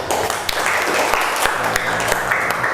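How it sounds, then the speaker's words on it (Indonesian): Classroom applause from students in an Arabic lesson, a steady patter of many hands clapping close by for a few seconds, with faint voices mixed in. "Silakan beri tepuk tangan."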